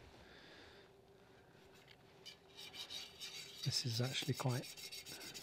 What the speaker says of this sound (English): coarse, this particular diamond hone